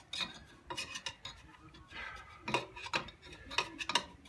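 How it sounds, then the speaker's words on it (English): Coarse steel wool scrubbing steel exhaust headers for a small-block Chevy 350 on a rat rod, quiet rasping strokes in irregular bursts with a few light metallic ticks, no talking. "I'm using the coarsest steel wool I can find."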